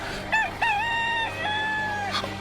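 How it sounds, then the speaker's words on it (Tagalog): A rooster crows once during a Holy Thursday passion drama staging, a loud, wavering call drawn out for about two seconds over a low steady hum. "Pedro, sa dili pa mo tuktugaok ang manok"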